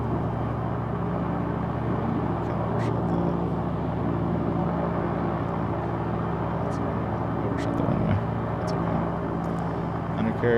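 Light aircraft engine on landing approach, a steady loud drone with a low rumble running unbroken throughout, the cockpit noise constant at close range.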